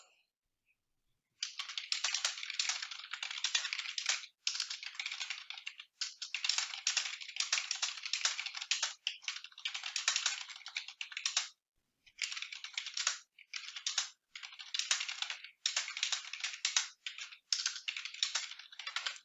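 Rapid bursts of typing on a computer keyboard, close and crisp, with short pauses between runs of keystrokes.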